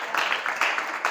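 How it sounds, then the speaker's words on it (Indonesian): Brief applause from students at a public speaking workshop for a vocational school class, a short burst of steady, fairly close clapping from a small group. "Tepuk tangan buat berempat hari yang sudah bicara."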